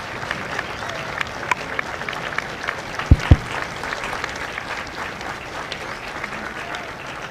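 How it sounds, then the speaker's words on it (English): An audience at a Marine Corps recruit graduation at MCRD San Diego applauds steadily and at a moderate level, with a couple of sharp knocks standing out partway through. "Ladies and gentlemen, a round of applause for their dedicated service to Corps and country."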